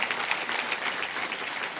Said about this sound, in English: Let's give them a round of applause for a great job that they've done with this event.